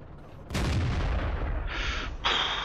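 Tank cannon fire in World of Tanks from a Hellcat: one sharp, loud boom that rolls into a decaying rumble, followed by two brief metallic hit sounds.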